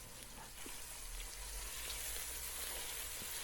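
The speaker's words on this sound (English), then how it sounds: "So first I'll put some oil and saute the onion a little bit" Chopped onion sautés in hot oil in a pan for a meat and green papaya curry, a steady close-up sizzling hiss with faint crackles and no talking.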